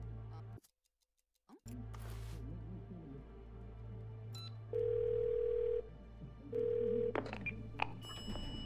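Telephone call tone in the video game Twelve Minutes: two steady electronic tone bursts, each about a second long, sounding after a brief silence over a low room hum, with faint ticks between them.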